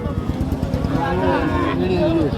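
Cattle at a busy rural market that sells milk cows with their calves, with a black local-breed cow among them; a drawn-out low moo rises over constant crowd chatter and bustle nearby.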